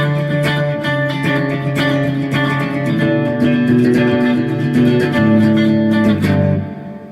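Distorted electric guitar playing an octave-shape riff, a steady run of picked power-chord octaves, loud and close, with no voices.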